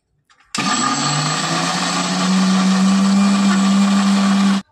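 Electric kitchen mixer grinder whirring loudly as it grinds soaked matar (pea) dal with a chilli into paste; a steady motor drone with a rising pitch that runs about four seconds before cutting off, no talking.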